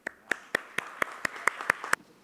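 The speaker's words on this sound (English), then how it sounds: "Please welcome them with a bit a round of applause" A small audience at an academic conference session claps to welcome the speakers, with about ten distinct, evenly spaced claps that sound close and fairly sparse rather than like a full crowd, and nobody speaks.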